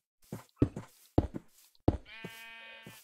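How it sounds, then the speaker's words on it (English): A few sharp knocks and thuds are followed by a single sheep bleat, wavering and close, in an otherwise quiet Minecraft setting. "Sheep."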